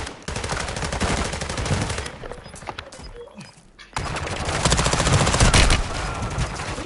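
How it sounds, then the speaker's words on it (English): Rapid bursts of automatic gunfire from a Call of Duty Warzone 2 firefight, loud and dense, with a brief lull in the middle before heavy shooting resumes. "I'm taking fire!"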